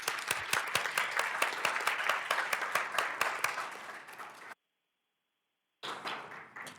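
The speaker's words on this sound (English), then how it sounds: "we do want to congratulate with a round of" Steady applause from a crowd at a school district governing board meeting fills the room, then cuts out abruptly into silence before clapping resumes for a final few seconds.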